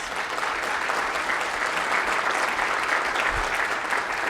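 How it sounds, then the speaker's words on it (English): Applause from an audience at a talk, steady clapping from many hands that stays moderately loud and even for the full few seconds. "Would you all just stand for a minute and let us give you a round of applause?"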